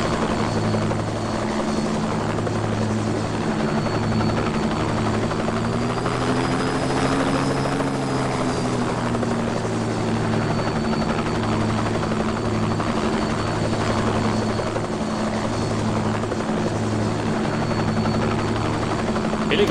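A helicopter in the video game Just Cause 2 produces a loud, continuous rotor drone with a pulsing beat, its pitch rising and falling slightly midway, steady and close for the whole stretch.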